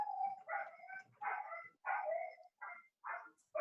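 A dog barks repeatedly in short bursts at moderate distance, with about six separate yaps spaced unevenly over a few seconds and quiet gaps between them.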